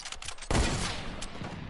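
Video game gunfire from a slow-reloading, high-damage gun, a sharp loud shot bursting in after a quiet lead-in, then a ringing, decaying tail with a fainter second crack near the end.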